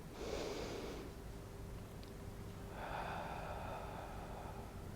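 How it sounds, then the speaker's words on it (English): A slow nasal inhale followed by a longer, breathy exhale through the mouth, soft and close during a standing Pilates session, with no talking. "Inhale through the nose, exhale from the mouth."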